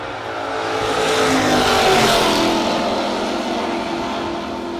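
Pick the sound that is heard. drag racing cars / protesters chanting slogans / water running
drag racing cars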